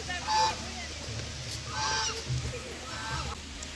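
A duck just out of the water after a swim gives three nasal honking calls, close and moderately loud, with faint voices around it.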